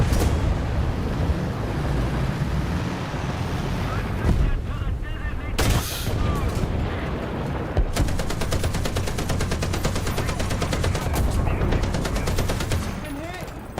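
Machine gun fire in the War Thunder tank battle game, dense continuous rattling bursts under heavy battle noise with booming cannon shots and someone talking over the din.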